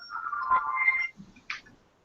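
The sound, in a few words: phone alarm ringing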